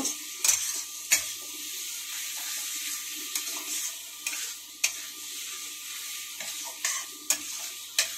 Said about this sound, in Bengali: এখন আলু, ভেজে রাখা আলুগুলো দিয়ে দিলাম। এগুলোকে দিয়ে একটু নেড়ে জল দিয়ে দিব।